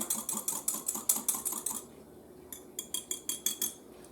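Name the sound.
whisking a mixture in a bowl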